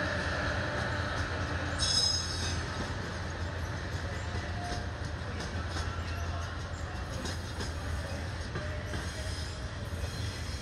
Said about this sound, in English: Number 3 in class 68, passing Crewe, and then across it to you, still passing Crewe.